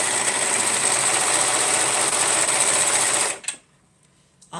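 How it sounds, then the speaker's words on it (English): A serger sewing machine stitching fabric whirs steadily and loudly for about three and a half seconds, then cuts off abruptly into near silence. "Let me try sewing this up."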